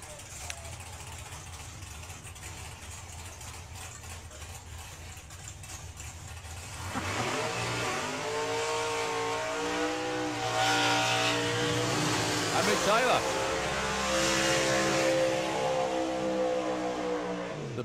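Drag racing fuel cars, including the Banshee Racing Outlaw Anglia, rumble at a distance, then launch with a loud, rising engine roar that climbs through gear changes and sustains to the end.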